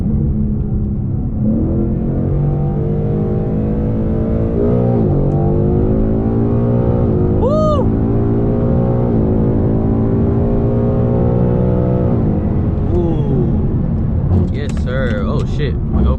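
A 2022 Ford Mustang with the 5.0 V8 and 10-speed transmission pulls hard, its engine drone loud and steady from inside the cabin, with the pitch climbing and dropping as it shifts through the gears.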